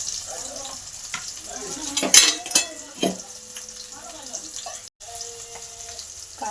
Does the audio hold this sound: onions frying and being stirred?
yes